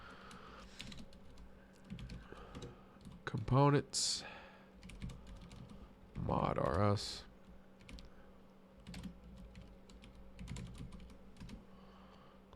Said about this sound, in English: I keep hitting the wrong keys